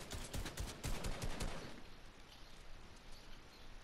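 Fortnite gunfire rings out as a quick burst of sharp cracks in the first half, then fades to a quiet game backdrop.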